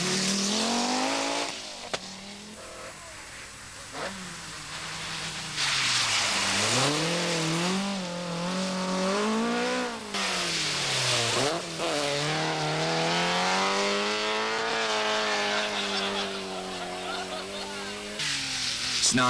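Rally cars race along snowy stages, their engines revving hard and loud up close, the pitch climbing and falling in long sweeps almost without a break.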